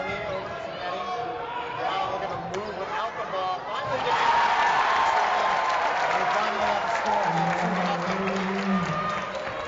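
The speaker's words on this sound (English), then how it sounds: "The Wellesley crowd celebrating" Crowd at a girls' high school basketball game against Wellesley, cheers and chatter swelling after a few seconds into a sustained roar, with a commentator's voice talking over it.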